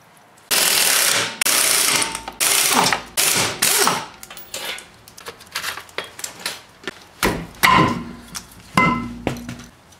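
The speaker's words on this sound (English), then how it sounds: "First thing, jack it up, take the wheel off." A ratchet wrench clicks loudly in fast bursts while a wheel is removed from a jacked-up car, the rapid mechanical ratcheting repeating in several runs and then giving way to scattered clinks and tool handling.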